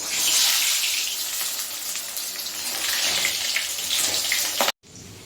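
Boiled potato pieces hit hot oil in a pan and set off a loud, steady hiss of frying that cuts off abruptly near the end, with no one speaking.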